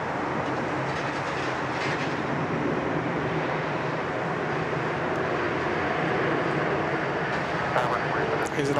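A Fiji Airways airliner arriving from Nadi at Sydney Airport gives a steady, broad, fairly loud jet roar that holds throughout, with a voice talking over it.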